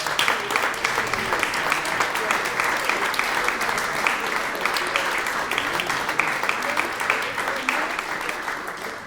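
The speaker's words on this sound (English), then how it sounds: "We want to give you a applause." A concert audience applauds volunteers at a prize concert, with dense, sustained clapping from a large crowd at steady loudness throughout.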